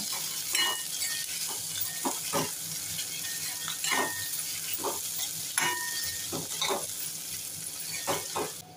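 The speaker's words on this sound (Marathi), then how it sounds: "बटाट्याची फोडी घालूया. चवीनुसार मीठ घालूया. छान परतून घेऊया." Potato pieces with salt are stir-fried in a pan, giving a continuous sizzle with repeated scraping strokes of a spatula at irregular intervals, close up and with no talking.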